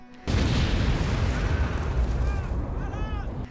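A deep, sustained roar of bomb explosions from a Soviet attack on a camp rumbles continuously, loud and close, with faint tonal whines rising near the end.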